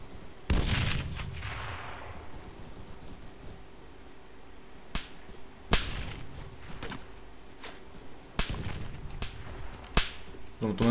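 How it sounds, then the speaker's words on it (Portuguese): Gunfire in the military shooter game Arma 3: sharp single shots crack out at irregular intervals, one loud report followed by a long echoing tail and then scattered closer snaps. "Tamo tomando tiro, hein?"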